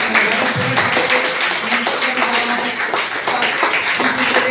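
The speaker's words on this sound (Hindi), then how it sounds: "जोरदार तालियों के बीच मैं चाहूंगा कि जोरदार ताली बजाएं" Steady applause fills a meeting hall in Chandigarh as the audience welcomes a woman guest, a dense continuous patter of many hands clapping close by.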